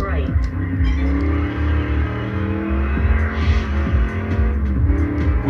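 A strong-torque car engine accelerating in Test Drive Unlimited, a loud steady harmonic drone rising in pitch with brief tire chirps, running continuously under a voice.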